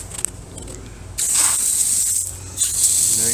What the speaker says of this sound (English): Try out the full spray.